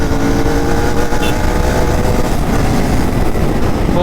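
A Royal Enfield Continental GT 650 on its stock exhaust roars loudly and continuously under hard riding, with heavy wind rush over the engine note as it pulls through the gears.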